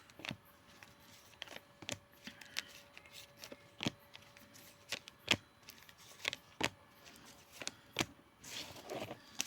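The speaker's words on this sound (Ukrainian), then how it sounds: "треба хорошо помішати карти" Playing cards are shuffled and flicked in a series of quick, sharp riffles, quiet and close, with short pauses between bursts.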